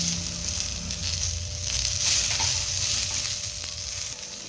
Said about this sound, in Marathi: याच कढईमध्ये आपण कांदा टाकून घ्यायचा आहे